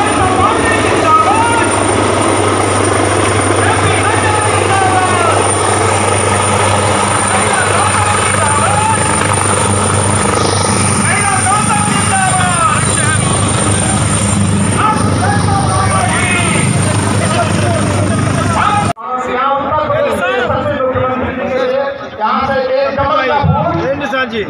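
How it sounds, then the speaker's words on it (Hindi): The helicopter carrying a BJP national president lands at a rally ground in Machhlishahr, Jaunpur, its rotor and engine roaring loud and steady for about twenty seconds before cutting out as voices carry on over the quieter scene. "जेपी नड्डा जी का हेलीकॉप्टर आ चुका है"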